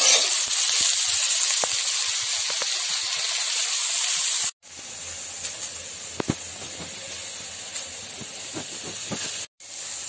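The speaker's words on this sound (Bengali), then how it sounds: "সয়াবিনগুলো একটু লাল করে ভেজে নেব।" Soybean chunks hiss and sizzle in hot oil for an egg soybean dish, a steady close frying hiss that drops out briefly twice before resuming at similar loudness.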